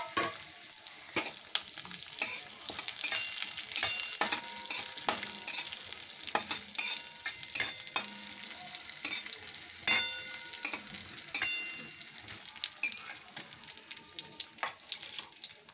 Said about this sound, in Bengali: এবার আমি এই ফোড়নগুলো দিয়ে দিলাম, তার সঙ্গে কাজু কিশমিশও একসাথে দিয়ে দিচ্ছি।